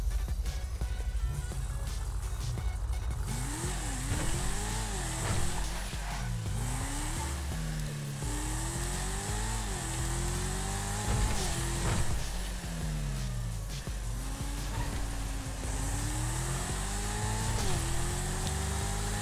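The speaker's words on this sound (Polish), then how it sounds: "Przejedźmy się nią trochę." A tuned Dinka Jester sports car engine revving in GTA Online, a loud continuous engine drone rising and falling in pitch through repeated throttle blips and gear changes, with no speech.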